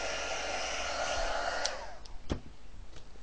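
A hair dryer blows steadily and close to dry Brusho paint, a loud continuous whoosh that cuts off partway, followed by a few small knocks and handling sounds.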